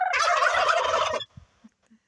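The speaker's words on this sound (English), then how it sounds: "We have a couple other turkeys down here." A turkey lets out one loud, rattling gobble lasting just over a second, close by, followed by a few faint soft clucks and near silence.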